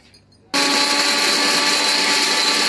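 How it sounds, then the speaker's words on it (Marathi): A mixer grinder starts abruptly and whirs loudly and steadily as it grinds green chilies for idli dry chutney, a harsh high motor whine with no voices. "पहिले थोडीशी मिरचीला वाटून घेते, नाहीतर मिरची जाडी राहून देणार."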